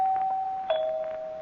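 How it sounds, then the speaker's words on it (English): A doorbell sounding in an old-time radio drama, a two-tone ding-dong chime ringing out clearly, followed by a second struck tone that lingers and fades, with no talking. "We better change the subject or ring the doorbell again."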